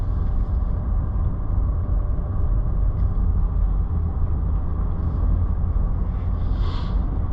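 Steady low rumble of a Range Rover L322 with the 4.4 TDV8 diesel driving through snow, continuous engine and road drone with a faint hiss from tyres, heard from inside the cabin with no talking.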